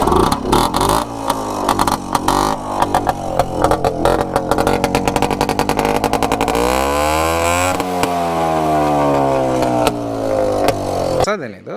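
An Escorts Rajdoot 175 two-stroke motorcycle starting and revving, a loud, close, buzzy engine rising and falling in pitch through repeated throttle blips before it cuts off abruptly at the end.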